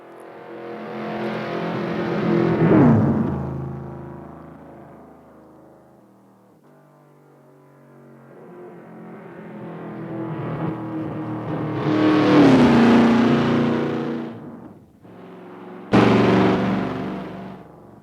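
A 1971 Dodge Demon with a 340 twin-four-barrel V8 accelerates hard, its engine note climbing loudly, easing off, then rising again through the gears before a sharp final burst, with no voices.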